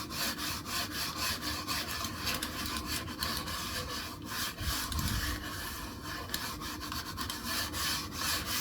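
Scratchy friction of TJExclusives Xact mouse skates on a mousepad before break-in, a steady close rasping rub with continuous gritty texture and no speech.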